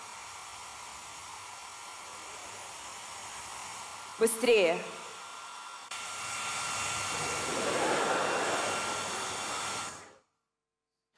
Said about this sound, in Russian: как ты взял фен в руки.